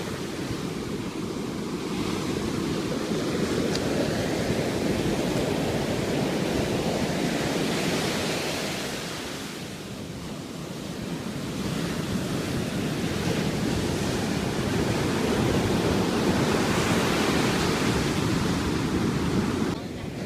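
Ocean waves washing onto the shore at Sand City, a loud continuous surf roar with a slow swell and dip, mixed with wind buffeting the microphone.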